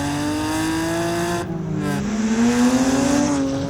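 A tuned 450 hp BMW 135i with an N54 engine revving, its loud engine note holding steady and then dipping before climbing again as the revs rise.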